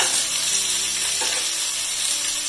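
Eggplant dropped into a pan of fried onion, sizzling loudly and steadily, a dense close hiss with a brief stir, no talking.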